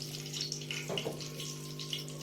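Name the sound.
pouring a little water into gram flour batter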